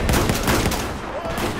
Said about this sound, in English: Point blank, shot him in the face